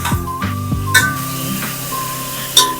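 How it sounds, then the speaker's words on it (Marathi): Onions frying in a pan while being stirred until brown for prawn biryani: soft sizzle beneath a few sharp spoon clinks and scrapes against the pan, close up, no voices. "आता ह्या कांद्याला असा ब्राऊन कलर पर्यंत कांदा छानसा परतून घ्यायचा आहे पण तो मध्ये मध्ये असा हलवत राहायचा आहे"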